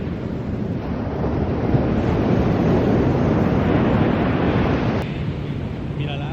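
Ocean waves wash continuously at a beach, a dense hiss of surf mixed with wind buffeting the microphone, steady and fairly loud for several seconds before easing slightly near the end.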